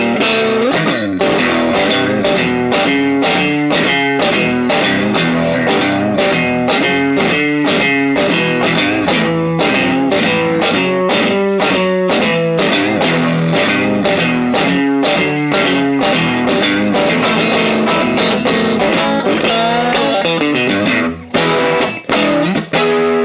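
Electric guitar with Fender 5762 single-coil pickups played through an LAA Custom CN81 Push overdrive pedal: a loud, continuous run of crunchy driven chords and riffs, ending in a few sharp stops.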